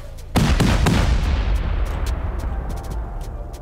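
Rocket explosions hit during a cave base raid in a survival video game: a loud blast bursts in, quickly followed by more heavy booms, then a long rumbling roar that slowly fades under scattered small cracks and pops.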